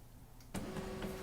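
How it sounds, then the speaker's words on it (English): A printer on a Macintosh setup starts up abruptly after quiet, a burst of mechanical whirring with a steady motor tone and small clicks, close and fairly faint, alone without talk. "Hear that? Hear that? Listen to that. I have a printer that actually works."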